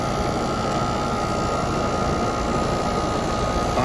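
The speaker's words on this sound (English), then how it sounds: "Test it at the compressor." Compressor of a central AC outdoor condenser unit running steadily, a loud continuous broadband hum with a faint tonal whine, close by and unbroken throughout.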